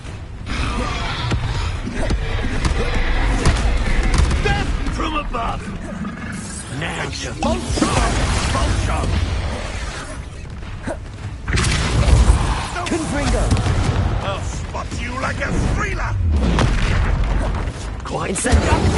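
Spell blasts and booming explosions in Hogwarts Legacy gameplay, heavy low thuds and crashes recurring through the stretch, with a player shouting spell names over the combat.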